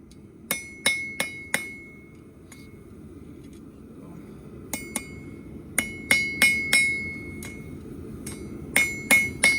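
Metal is hammered around an anvil at a farm smithy. There are sharp, ringing strikes in quick bursts of three or four, separated by short pauses over a faint background.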